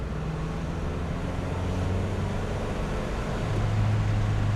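A 2001 Nissan Silvia S15 Spec S with a naturally aspirated, non-turbo engine pulls under added throttle, giving a steady low drone that swells slightly toward the end, mixed with road and wind noise.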